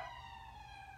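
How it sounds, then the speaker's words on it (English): Ambulance siren passing by outdoors, a steady wailing tone with rich harmonics that slides slightly in pitch, moderately distant over low traffic rumble, no talking. "an ambulance going by."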